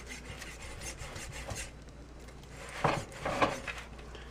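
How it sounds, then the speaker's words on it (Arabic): A knife cutting through the joint of a raw chicken wing, heard as soft close rasping and crunching strokes, with two louder cuts near the end. "بتحسس المفصل بإيدي أو بإصبعي وبقص بهالشكل"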